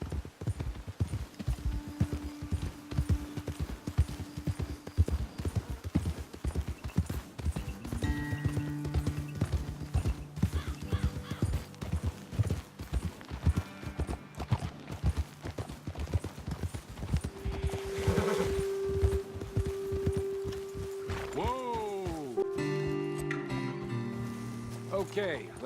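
Horses' hooves clip-clop steadily as riders travel uphill in Red Dead Redemption 2, joined by a whinny and neighing near the end, with game music and talking voices running over the hoofbeats.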